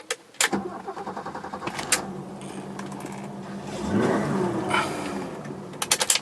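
A 1984 BMW 325e with a five-speed manual is started with the key: a few mechanical clicks, then the starter cranks and the engine catches and settles into a quiet idle, with more clicks near the end.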